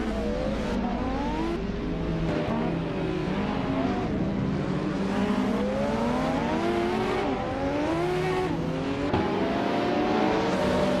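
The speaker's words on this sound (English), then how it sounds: "is driving a 1989 Ferrari F40 Competition de Unisson" Engine of a 1989 Ferrari F40 Competition race car in a racing video game, revving and shifting continuously through gears, loud and close, with other cars in a tight pack around it.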